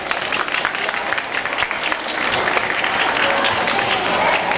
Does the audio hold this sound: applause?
yes